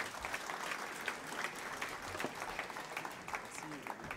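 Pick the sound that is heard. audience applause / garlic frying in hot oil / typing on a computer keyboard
audience applause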